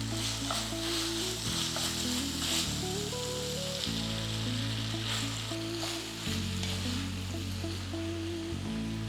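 Cooked pasta tossed into a pan of sizzling chicken and capsicum: a steady, loud frying hiss with occasional stirring scrapes, over a continuous low kitchen hum, with no talk.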